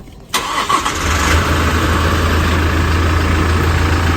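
A car engine cranks and catches after a clutch disc replacement, then settles into a loud, steady idle close by.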